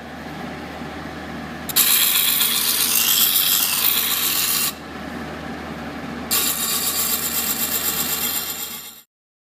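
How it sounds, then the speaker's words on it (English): Loud, raspy scraping of a card scraper shaving the convex outside of a segmented wooden bowl on a lathe, in two long bursts separated by a short lull, with a steady mechanical hum underneath. "For the convex parts of the bowl, I was able to just use a card scraper."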